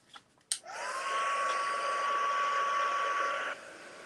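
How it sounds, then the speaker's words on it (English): A heat tool blows steadily over mixed media art journal covers, a constant loud whirring hiss with a faint whine that runs for about three seconds after a click and then cuts off. "let's get out our heat tool and dry those now"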